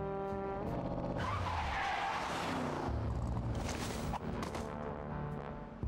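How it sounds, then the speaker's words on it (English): Cars from the Sam and Max: The Devil's Playhouse Remastered video game drive and skid, with sustained engine drone and loud tire squeals over a game music bed, continuous and close throughout. "These are very short car rides."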